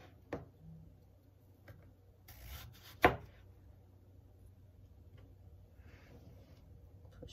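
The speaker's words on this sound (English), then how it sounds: "So I'm cutting this here where this is in cubes." A knife cuts eggplant into cubes on a cutting board, giving a few quiet, sparse taps and one sharper chop in a hushed kitchen.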